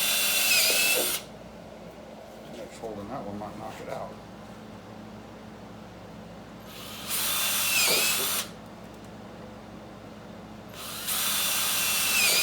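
Power drill enlarging holes in metal for a U-bolt, three loud bursts of drilling, each a second or two long, separated by quieter stretches in which a person talks nearby.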